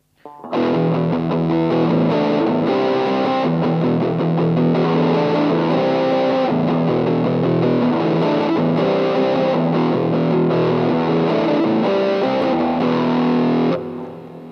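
A Boss DS-2 Turbo Distortion pedal with its tone knob at the midpoint and distortion at half colors an electric guitar, heard as dense, continuous overdriven chords and riffs at full volume from start to a clean stop.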